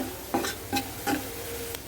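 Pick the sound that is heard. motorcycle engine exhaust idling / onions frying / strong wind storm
onions frying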